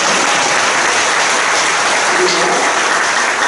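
Loud, dense applause fills a church seminar hall as a crowd welcomes a young ROTC cadet youth-group leader, continuous clapping with speech briefly audible.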